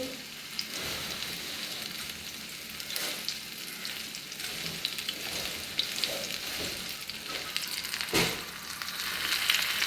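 Fish coated in semolina (rava) sizzles in hot oil in a pan, a continuous close frying hiss dotted with small crackles and pops, with no voices.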